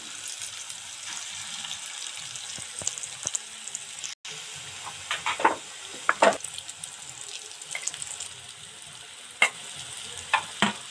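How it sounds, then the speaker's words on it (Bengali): Small koftas dropped one at a time into hot white oil in a deep pan, a steady close sizzle of deep frying with occasional louder bursts and crackles as pieces go in. "তেল গরম হয়ে গেছে, এবার একটা একটা ছোট্ট ছোট্ট কোপ্তার আকারে ছেড়ে দেবো।"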